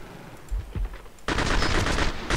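Gunfire in the Singularity video game: two sharp shots followed by a sustained burst of rapid automatic fire, loud and close.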